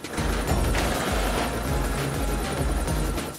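A video-game helicopter's rotor chops steadily and loudly with a continuous engine whine, no pauses, close by.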